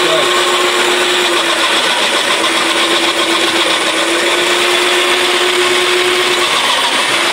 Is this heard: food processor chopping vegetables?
yes